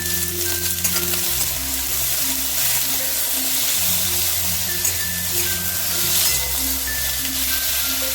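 Onion and tomato sizzle and fry steadily in a pan while being stirred, a continuous close crackle with soft scraping of the spoon throughout, no talking, for a prawn dish.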